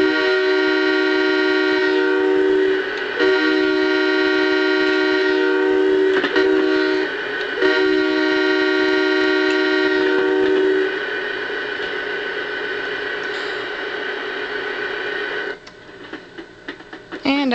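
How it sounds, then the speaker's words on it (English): Horn of an ES44DC diesel locomotive in the KRS train game sounding the railroad-crossing pattern: loud, near, harmonic blasts, two long, a short, then a long, over a steady engine rumble. "We do two longs, a short blast, and a long blast."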